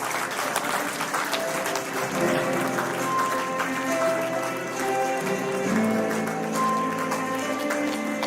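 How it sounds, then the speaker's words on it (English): Applause for teachers at a live award celebration, steady and sustained across the whole stretch, with a sustained musical tone mixed underneath the clapping. "So please give them a huge round of applause."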